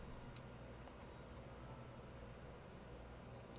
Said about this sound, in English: Let's type in unsolved mysteries